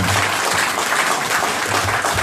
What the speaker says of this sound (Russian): Это всем нам аплодисменты.